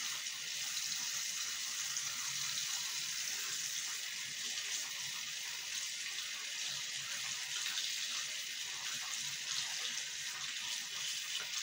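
Water runs steadily from a tap, a continuous hissing splash close by with no talking.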